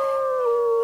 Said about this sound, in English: My wolf would stop howling.